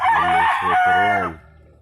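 A rooster crows once up close at a provincial chicken farm, a loud drawn-out call lasting just over a second that trails off into quiet.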